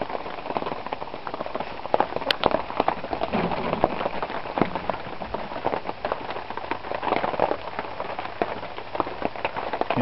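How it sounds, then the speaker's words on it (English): Dense, steady patter of raindrops on the thin roof of a homemade camper trailer, continuous and close, with no talking. "You can hear the raindrops."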